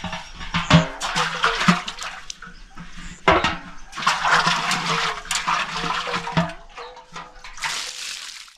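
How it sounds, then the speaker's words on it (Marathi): Water runs and splashes into household pots and vessels, a loud, steady gush that surges and eases over several seconds, with brief clanks of metal containers and no talking. "हे पाणी भरायचे हे आपलं भांड्या कुंड्याला हम्म."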